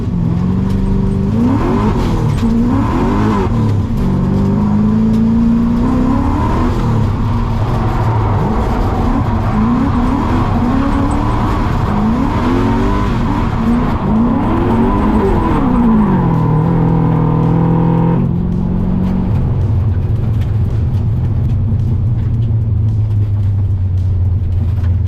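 A car drives a lap of a race track on worn tires, its engine revving up and down through repeated gear changes and wavering pitch, loud and close throughout.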